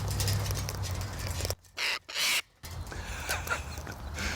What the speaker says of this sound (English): I stroked this one on his back and that one squawked.